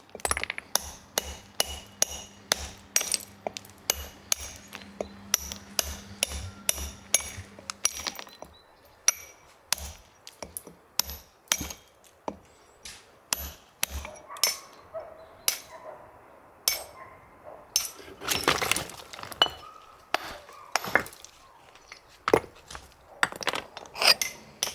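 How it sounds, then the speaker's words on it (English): A hammer chinks against stone again and again while stone walls are built for a stone building, giving a steady run of sharp, ringing metallic strikes near the listener, with a dog barking now and then between the blows. "adding that chink, chink, chink of stonework"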